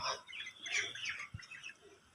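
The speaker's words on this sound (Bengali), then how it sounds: "মুরগিগুলোকে খেতে দিয়েছি আর সবগুলো এসে হাজির, সবগুলোই এখন খাচ্ছে" Chickens clucking as they gather to eat their feed on a farm where ducks and goose chicks are also kept, with soft overlapping bird calls and a brief low thump near the end.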